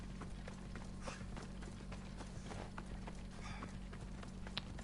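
A horse gallops in Assassin's Creed Odyssey: faint, rhythmic hoofbeats over a low steady hum, quiet and somewhat distant.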